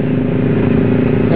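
A motorcycle rolls along slowly on a Sunday group ride in Palembang, its engine a loud, steady close-up drone with rattling clatter and wind noise, and no change in pace.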